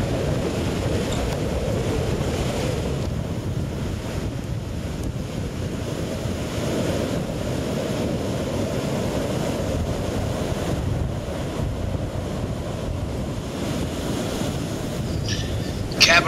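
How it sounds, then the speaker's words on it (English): Surf and wind roll steadily at Cabarete Beach in the Dominican Republic, a continuous broad wash of breaking waves with gusty wind buffeting the microphone throughout, ending in a brief louder bump. "Cabarete Beach, the pearl of the Pacific."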